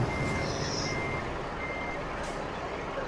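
A large truck in Euro Truck Simulator 2 idles with a broad engine hum while a high reversing beep repeats at steady intervals.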